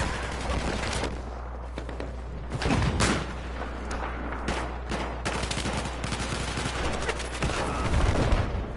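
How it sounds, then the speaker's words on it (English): Sniper rifle fire during a Battlefield 4 Rush clan battle: loud, booming shots and heavy blasts ring out over a dense, continuous roar of distant battlefield noise. "Looks like he's getting some sniping in."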